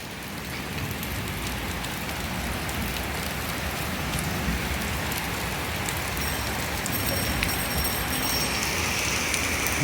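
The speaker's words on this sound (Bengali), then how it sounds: "ঢাকায় প্রচন্ড বৃষ্টি হচ্ছে সকাল" Heavy morning rain pours down steadily in Dhaka, a loud, dense hiss of drops hitting surfaces throughout, with no talking.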